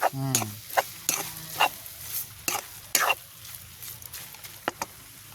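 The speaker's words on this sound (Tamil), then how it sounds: "மீன் எல்லாம் நல்லா வறுபட்டு" Tinned fish fries in a pan with a low sizzle under sharp, irregular spatula scrapes and knocks, and brief bits of vocal sound occur early on.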